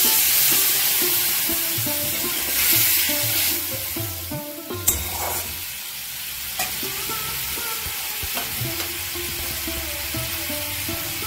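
Chili-turmeric water is poured into a pan of bottle gourd chicken (lau chicken) as it fries, giving a steady close sizzle with stirring scrapes and a brief splash partway through.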